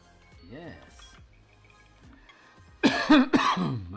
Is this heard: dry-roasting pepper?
no